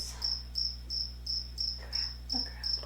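Crickets chirp in a steady rhythm of about eight evenly spaced pulses, heard as a crickets sound effect at a faint, even level with no voices.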